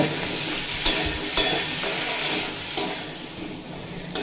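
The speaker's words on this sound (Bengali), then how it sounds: "দেখুন আলু আর কাঁঠাল বিচিও খুব ভালোভাবে ভেজে নিয়েছি" Potatoes and jackfruit seeds fry in a pan with salt and turmeric, giving a steady bright sizzle and hiss broken by a few sharp scraping stirs.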